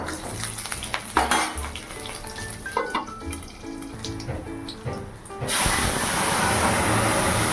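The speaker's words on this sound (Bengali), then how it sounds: "এই যে টমেটোর ডাল করব, ওর জন্য একটু কাঁচা লঙ্কা আর সর্ষে ফোড়ন দেবো।" Kitchen clatter of a pot and utensils, then a sudden loud, sustained sizzle as green chili and mustard seeds hit hot oil to temper a tomato dal, with no talk.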